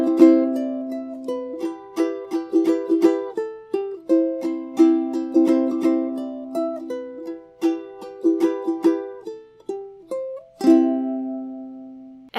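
A ukulele plays the outro of a song, with clear plucked and strummed chords in an uneven rhythm, ending on a final softer strum that rings out alone and close.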